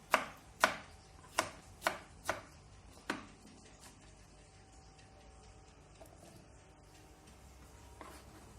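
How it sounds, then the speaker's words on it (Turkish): Six sharp knife chops through cucumber on a board come in a quick uneven run, then quieter occasional taps, close and crisp. "hıyar doğrayacağım."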